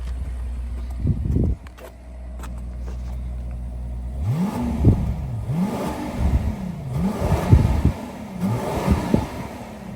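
A 2023 Rolls-Royce Cullinan fitted with a full Capristo exhaust idles, then blips its engine in a series of rising and falling revs, loud and close, with repeated throttle swells after a brief quieter pause.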